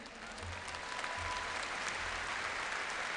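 A congregation applauds during a conversion testimony, steady dense clapping from a crowd throughout, even in level, with a faint low rumble underneath.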